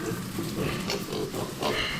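Pigs on a rural farm grunt at feeding time as piglet feed is put out, a dense, continuous chorus of close snuffling grunts with no talking.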